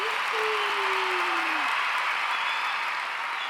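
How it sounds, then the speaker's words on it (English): A live audience applauds for a podcast co-host, giving a steady wash of clapping that holds evenly throughout, with a brief whistle-like tone sliding down early on. "Give her applause."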